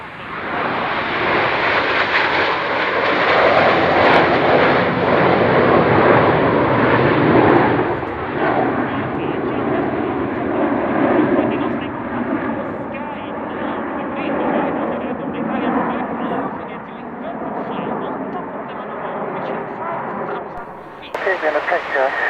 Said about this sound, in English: You can follow all the Frecce Tricolori in flight.